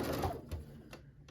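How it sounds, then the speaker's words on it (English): A sewing machine runs a straight seam down the middle of a quilt, one continuous close whirring run that fades after about half a second before short bursts resume, with no talk over it. "let's just sew this straight down the middle"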